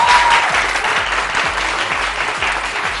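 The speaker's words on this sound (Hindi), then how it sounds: "भाई तालियां इसके लिए।" Studio audience applause on a cooking competition show, dense and loud from the start and easing slightly toward the end.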